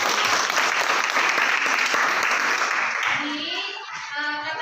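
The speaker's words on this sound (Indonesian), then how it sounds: "Tepuk tangan dulu." Classroom of students clapping for a group presentation, a brisk burst of many hands for about three seconds that then dies away as voices take over.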